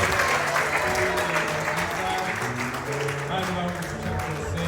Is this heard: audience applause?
yes